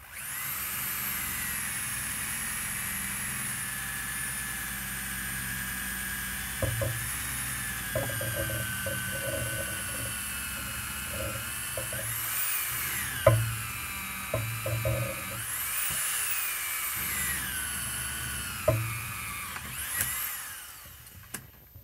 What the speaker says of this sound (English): And now I drill through it.